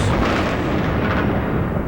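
Rumbling explosions during the bombing of Baghdad at dawn form a continuous loud, dense roar of blasts and booms with no clear gaps, as if several hit close together.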